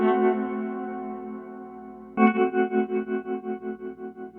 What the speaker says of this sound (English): when you stop playing, you can hear this tremolo effect continue